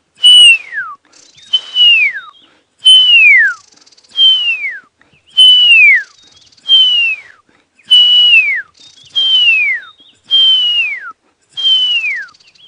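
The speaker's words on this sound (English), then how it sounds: "So all you can hear now, white-browed scrub robins" White-browed scrub robins calling on a dawn safari drive in the African bush, a repeated clear whistled phrase that slides downward, about ten evenly spaced calls, loud and close against a quiet background.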